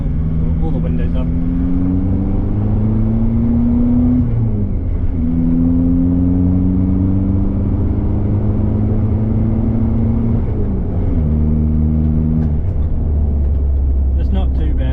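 Ford Ranger fitted with a 3-inch high-flow muffler exhaust pulling hard through second gear with the windows up, a steady droning engine note rising in pitch in several stretches with brief shift dips, heard from inside the cab.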